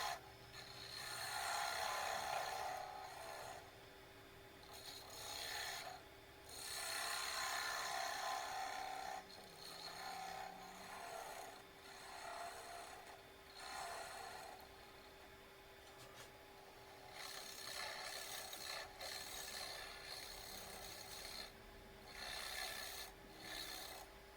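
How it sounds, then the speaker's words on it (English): A wood lathe turns a blank while a 1/2-inch bowl gouge cuts, giving a continuous faint hum with a steady tone and recurring bursts of scraping cut noise over about 24 seconds, no talk. "so I switched to my 1/2-inch bowl gouge. And it's doing a good job, not putting too much stress on the blank"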